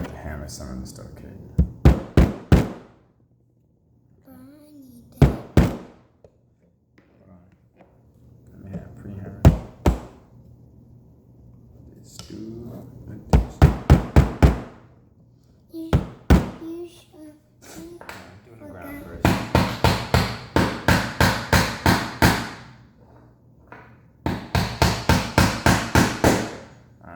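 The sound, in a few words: hammering wooden monster truck kit parts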